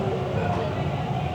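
A moving Toronto subway train rumbles steadily, with a continuous loud, droning roar from the rails and carriage and no pauses or voices.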